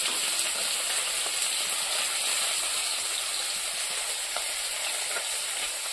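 Fish pieces frying in a pan give a steady, close sizzle with faint stirring scrapes, constant and even with no speech.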